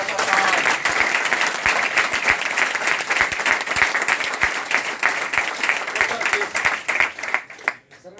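A seminar audience claps in sustained, dense applause that fills the room, a close, steady wash of many hands that fades at the very end.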